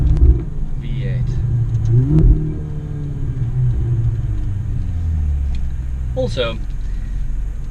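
Ferrari 488 Spider's turbocharged V8 rumbling at a steady low idle-to-cruise drone with the rear window lowered, loud and close beneath someone speaking throughout.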